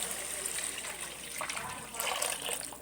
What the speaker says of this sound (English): 1 liter of water I have added.